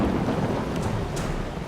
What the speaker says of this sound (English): I think there's a storm happening